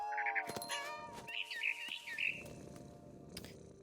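In What Remains of Edith Finch, a frightened bird chirps in quick, bright bursts of tweets, close and clear over a low ambient hum, with a few soft thumps of movement mixed in and no talking.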